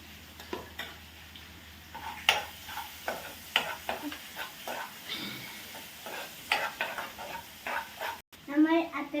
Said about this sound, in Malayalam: ഒരു നുള്ളു ഉപ്പിട്ടിട്ട് നമുക്ക് വഴറ്റാം.